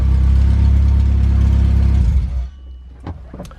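Honda EG hatchback engine, started by a JDi push-start button and running with no exhaust fitted, roars loud and raw with a deep throbbing idle, then cuts off abruptly, leaving faint clicks and rustling.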